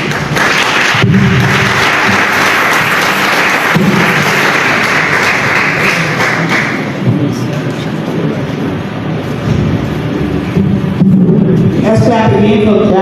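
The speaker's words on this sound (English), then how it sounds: "Let's clap again for Jackie" An audience claps at a health sector diaspora event, a dense, fairly loud patter of hands with some heavy thumps, thinning out later as voices and room noise take over.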